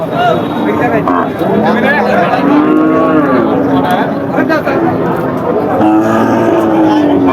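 Large cows moo repeatedly at a cattle market, several low calls overlapping near and farther off, with people chattering in the background.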